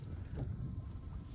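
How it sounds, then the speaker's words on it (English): Wind blowing across a lake out on a drifting boat near lily pads, a steady low rumbling roar of buffeting air against the microphone, loud and continuous throughout with no talk. "Very windy today."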